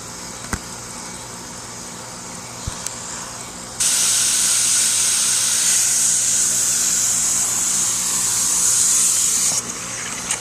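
A garden hose set to mist sprays in a backyard garden with a waterfall, a loud, steady hiss that starts abruptly partway through and cuts off near the end, over a low background rumble.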